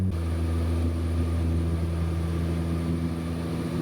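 Cabin noise aboard a seaplane flying low over the Maldives toward a resort, a loud, steady propeller drone with a strong low hum that stays constant throughout, with no voices.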